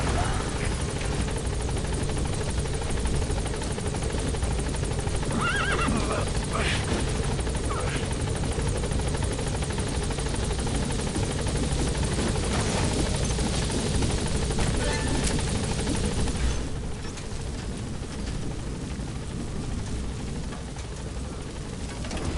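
A helicopter in Metal Gear Solid V hovers near a blocked landing zone, its steady loud rotor roar filling the whole span before easing slightly toward the end, with radio-style talk over it.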